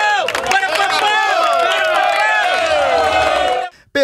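Paysandu football supporters in the stands at Diogão stadium in Bragança, a loud, dense crowd roar with chanting and shouting voices merging into a continuous wall of sound, cutting off abruptly near the end.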